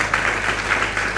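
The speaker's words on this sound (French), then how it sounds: "Est-ce qu'on peut applaudir pour Greater Grace?" A church congregation applauds, a brief burst of steady, dense clapping from a crowd filling the room.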